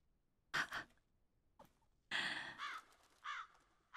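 Crows cawing in the video game Silent Breath: a few loud, harsh calls arrive in separate bursts with quiet gaps between them, and nobody speaks.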